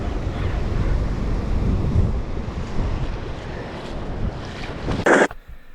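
Wind and ocean surf roar at Ocean Beach, a broad continuous wash that is loud and close, buffeting the microphone, with a brief sharp knock near the end.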